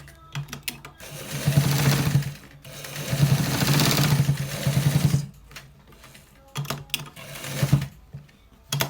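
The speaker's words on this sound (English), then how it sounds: "We are stitching the top part now to get the right one that we want" A sewing machine stitches a pair neck design into a blouse top in several rapid, close bursts of rattling stitching, separated by brief pauses and light handling clicks, with no one speaking.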